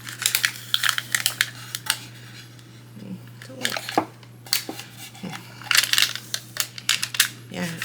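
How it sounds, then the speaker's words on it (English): Transfer tape being peeled back from a wooden craft blank, tearing up wood fibers as it comes away, heard as a series of sharp crackling, ripping bursts with a steady low hum underneath and no talk. "This is the first time I've ever seen this transfer tape pull this much of the wood up."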